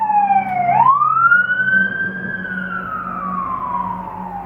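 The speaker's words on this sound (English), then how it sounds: "it was the ambulance, so I didn't know if y'all could hear that or not" A passing ambulance siren in England sweeps down then slowly rises and falls in pitch, fairly loud over a low vehicle rumble.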